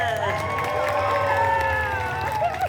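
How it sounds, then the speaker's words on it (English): An audience at a Deadpool holiday story-time show at a 2024 festival cheers and applauds in a dense, continuous burst, with tonal music or voices sustained over the crowd noise. "what perfect timing for that round of applause"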